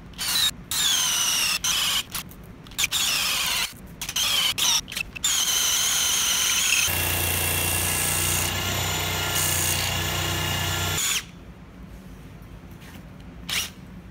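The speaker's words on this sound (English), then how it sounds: "I use my allegedly perpendicular drilling apparatus to first drill the larger hole" Power drill boring 3/4-inch holes into a wooden workbench in short whining bursts, then a long steady grinding run before stopping, close and loud.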